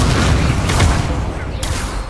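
A fire spell cast in the Hogwarts Legacy game erupts as a dense, booming burst with a sustained roar and a sharp crackle near the end, loud and close.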